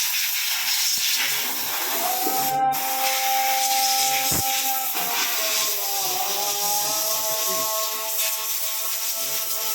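Pressurised spray hissing steadily while cleaning the AC cooler of a car, a continuous close, loud wash broken by short bursts and a faint whine underneath, with no talking.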